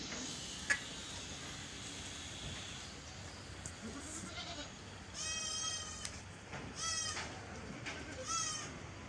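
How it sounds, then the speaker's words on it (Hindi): A goat with six teeth at a goat market bleats several times, with wavering cries in the second half that are moderately close over a quiet background of market noise and soft ticking. "ये मेरे पास बकरी है, 6 दांत है"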